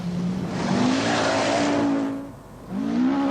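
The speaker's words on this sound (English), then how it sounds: "Chevette's front suspension hits a rock, and he's about to become the next victim of the Audi Quattro, driven by an aggressive Mikkola." Rally cars race on a forest stage of the 1975 RAC Rally, the engine roaring loud and close with rising and falling revs, a brief dip between gear changes, then climbing again with no talking.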